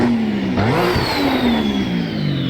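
A loud modded race car engine in a video game revs continuously, its pitch dipping and climbing as it accelerates, with a high whine rising above the roar.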